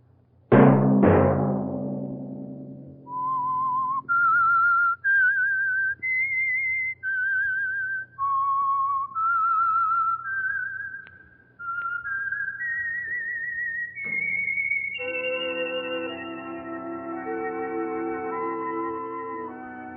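The theme tune of The Whistler old-time radio drama is whistled solo, a clear, eerie melody of sustained notes rising and falling, opened by a sharp chord and ending over a soft orchestral swell.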